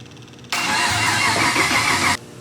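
An LS3 V8 swapped into a BMW E46 cranks and catches in one loud, sudden burst of engine noise that holds for under two seconds before cutting off abruptly.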